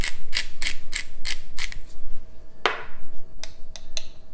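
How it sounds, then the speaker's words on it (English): A pepper mill grinds fresh pepper in a row of quick, rasping crunches, close and crisp, followed by a longer twist and a few more short grinds. "Several grinds of fresh pepper."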